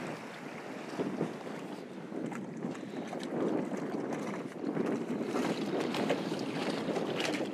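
Small waves slapping against a dock at high tide during a tropical storm, a steady close wash of churning water and surf mixed with gusty wind buffeting the microphone, continuous with no speech.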